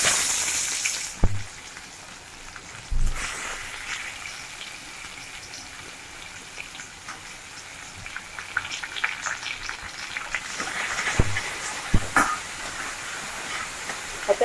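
Garlic and onion fry in a pan over a high gas flame for masala pasta, giving a steady soft sizzle and hiss with a few louder spatters.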